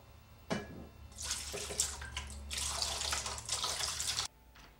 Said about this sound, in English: Measure 2 inches from the edge of the glass and pour.